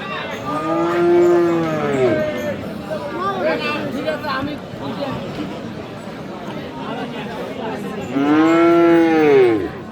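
Cattle loudly moo twice, near and drawn out, at the start and again near the end at Aftabganj livestock market, where Friesian and crossbred bulls and calves are sold, over steady crowd chatter and bargaining voices.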